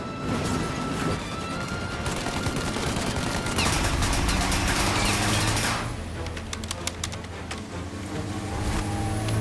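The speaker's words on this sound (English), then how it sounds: "The windshield! Shoot out the windshield!" Gunfire in Mafia: Definitive Edition, shots fired to blow out a car windshield: dense bursts of cracking shots with smashing glass and engine noise, loud and close, heaviest in the middle stretch before thinning to scattered pops.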